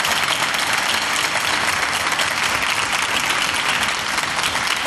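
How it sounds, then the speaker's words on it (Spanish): An audience at a Liga Debate school debate final in the Cortes de Castilla y León applauds two debate teams, a dense, steady clapping that fills the hall without a break. "un aplauso merecido a estos 2 grandes equipos."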